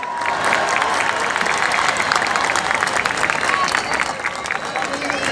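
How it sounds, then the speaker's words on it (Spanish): Audience applause mixed with cheering and crowd noise fills a live music show, dense and steady throughout with a slight dip near the end. "que se repite el aplauso, por favor"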